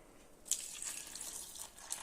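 Filtered, settled water is poured over dried ingredients to make smoothie milk, a light splashing trickle with a few brighter drips, close and fairly quiet.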